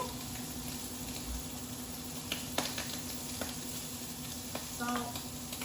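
Shrimp fry in a pan for homemade ramen with bone broth, giving a faint, steady sizzling hiss with a few soft ticks and pops throughout.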